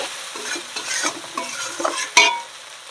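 Chana dal khichdi stirred in a pot in a village kitchen, spoon scraping in several irregular strokes with a faint sizzle, ending in a sharper clink near the end.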